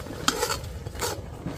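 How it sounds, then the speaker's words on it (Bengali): Rice flour mixture being stirred in a pot for dudh puli pitha, giving scraping, clinking strokes of a spoon against the pot over a soft background simmer, close and moderate in level. "এবার নাড়িয়ে মিশিয়ে নেব ভালো করে।"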